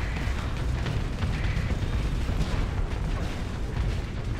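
Ship explosion in the space combat game Starsector, a thick rumbling blast wash with crackling debris, loud and sustained without a break, heavy in the low end.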